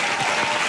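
Brief burst of audience applause at a French talk show, dense clapping from a studio crowd with no break.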